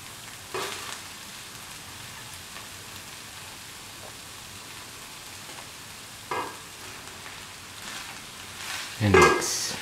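Cooked rice tossed with a mushroom mixture in a hot pan gives a soft, steady sizzle with a few louder scrapes and clatters of the spatula, the busiest stirring near the end.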